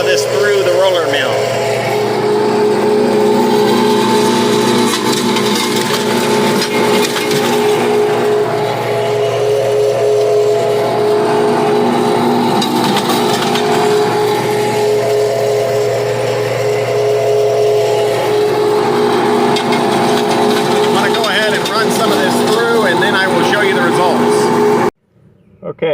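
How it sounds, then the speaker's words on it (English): A Roskamp 9x12 roller mill crushes coarse petroleum coke with its rolls set wide open, giving a loud, steady industrial drone with a constant mechanical hum that runs unbroken for about 25 seconds, then cuts off abruptly near the end. "We're going to go ahead and start with the coarse sample, and we're going to run some of this through the roller mill."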